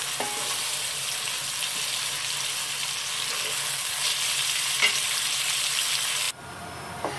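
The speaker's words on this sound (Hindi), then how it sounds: "आप लोग भी देख रहे हैं मैं कैसे हल्का हल्का चम्मच चलाती जा रही हूँ, जलने नहीं दे रही" Chicken korma frying in a pan with a spoon stirring lightly, a steady close sizzle with faint spoon scrapes throughout, dropping quieter near the end; no talk.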